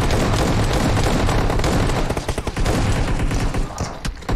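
Rapid, loud gunfire from the PUBG Mobile zombie mode, a dense barrage of overlapping shots and blasts with a shotgun among the weapons, continuous and close with brief gaps near the end.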